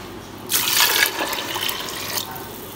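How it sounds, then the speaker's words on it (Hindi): Water pours into a cooking pot holding meat and soaked chana dal for haleem, a loud gushing splash lasting under two seconds before cutting off. "और इसमें डाल देते हैं पानी।"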